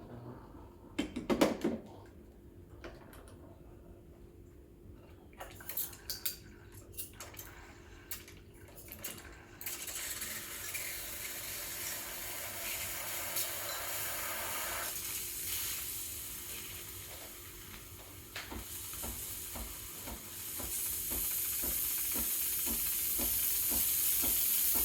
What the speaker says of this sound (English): we're going to be testing the steam just really quickly